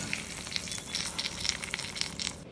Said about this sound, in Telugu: వడకట్టుకున్న దాంట్లో నేతి తాలింపు పెట్టేశానండి